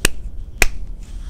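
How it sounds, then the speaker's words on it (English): Two sharp hand claps about half a second apart, crisp and close, during a children's storytime sing-along, with near silence around them. "We're going to do two claps like this."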